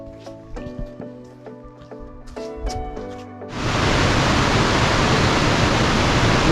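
A waterfall in heavy flow after rain bursts in midway as a loud, broad, steady roar, following a few seconds of quieter musical tones.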